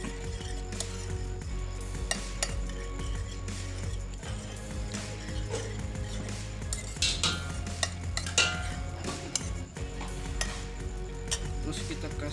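Grilled fish sauce being stirred in a pan, a steady sizzle under scattered scraping and clinking of a utensil against metal, close and continuous with no voices.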